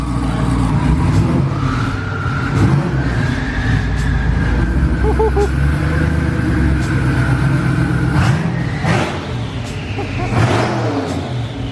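A powerful supercharged BMW M3 engine roars and revs repeatedly up close, pitch rising and falling, with voices faintly mixed underneath.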